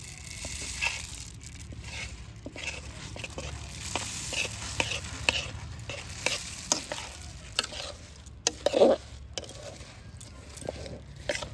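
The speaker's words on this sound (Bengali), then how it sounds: "কনক চুর খই অল্প অল্প করে গুড়ের সঙ্গে মিশিয়ে নেব আর নাড়তে থাকবো" Puffed kanakchur khoi is stirred into hot jaggery for Joynagar moya, giving a steady scraping, crackling stir with scattered sharper clicks and a low sizzle underneath, ending in a louder burst of scraping near the end.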